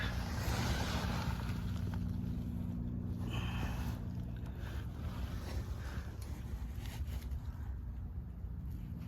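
A Honda HS520 snowblower engine runs steadily at close range, a continuous low rumble that holds throughout without pause.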